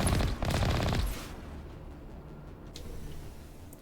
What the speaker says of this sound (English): Could you stop shooting the Mako, please?